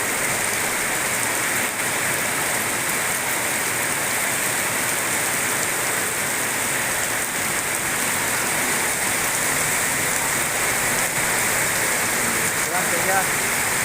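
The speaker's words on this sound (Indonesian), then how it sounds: "Hujan." Heavy rain pours steadily in Indonesia near dusk, a dense, even roar of drops on surfaces that stays loud and constant throughout, with no talk over it.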